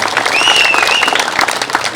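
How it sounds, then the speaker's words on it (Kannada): A crowd applauds for local Subrahmanya kabaddi players, brisk clapping filling a short burst with a thin whistle-like tone rising above it. "ಅದಕ್ಕಾಗಿ ದೊಡ್ಡ ಚಪ್ಪಾಳೆ ಬರಲಿ"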